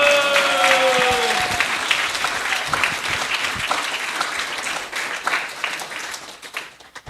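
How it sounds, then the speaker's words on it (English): A temple congregation at ISKCON New Goloka in Hillsborough applauds its youth, a dense round of many hands that begins over a brief tonal sound and fades and thins toward the end. "every single one of you, really deserves a huge round of applause"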